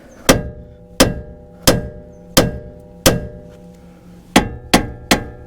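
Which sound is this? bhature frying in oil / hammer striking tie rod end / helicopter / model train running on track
hammer striking tie rod end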